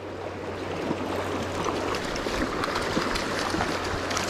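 Pocket water on Penns Creek in Pennsylvania rushes steadily over rocks, a continuous close broadband flowing hiss with no pauses.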